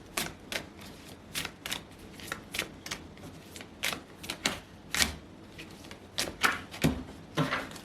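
Tarot cards being shuffled by hand, a close series of crisp riffling bursts in an uneven rhythm, each a short papery flutter, with no talk.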